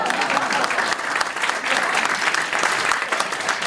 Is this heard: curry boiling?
no